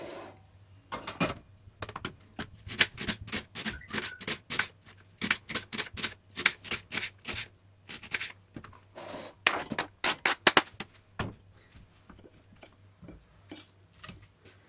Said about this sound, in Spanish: Cortamos también el puerro.